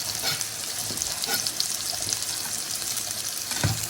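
Onions fry in plenty of hot oil, a steady bright crackling sizzle with faint stirring scrapes and a soft knock near the end.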